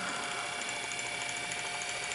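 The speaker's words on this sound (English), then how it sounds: "And now when you step on, and of course engage the bobbin winder" A 1953 Singer 306W sewing machine runs with its bobbin winder engaged, producing a steady, even mechanical whir with a faint high whine and no voices.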